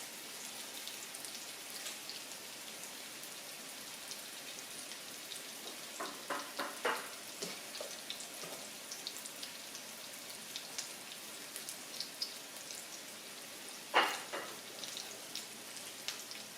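Faint, steady sizzling of hamburger patties frying in a pan, with a few soft clinks and scrapes of utensils; no talking.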